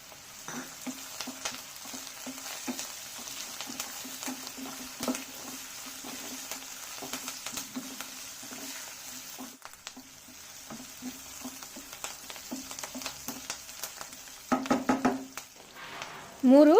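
Curry leaves frying in hot oil for Kannada-style egg masala, a steady soft sizzle with light stirring clicks throughout, brief louder spatters near the end.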